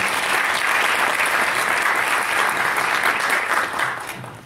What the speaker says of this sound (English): I'd like to give a big round of applause for all